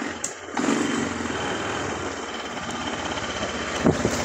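A 300cc off-road ATV engine runs steadily at close range, holding a constant drone with faint wind buffeting as the machine creeps forward and then backs up, with no talk.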